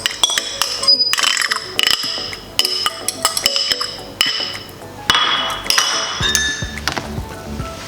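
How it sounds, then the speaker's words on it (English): Banana bread mixture stirred in a bowl gives repeated sharp clinks of a utensil against the bowl in an uneven rhythm, close and fairly loud, with no talk. "I'm now going to bring in the banana mixture and add it in here. Mix it."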